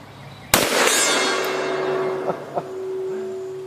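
A Smith & Wesson Magnum 500 revolver fires a single very loud, close shot at an outdoor range. The sharp blast rings out in a long decay, followed by a couple of small knocks.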